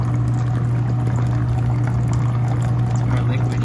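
Water poured out quickly to thin water-based paint, a steady, loud rushing pour lasting the whole moment alongside a constant low hum.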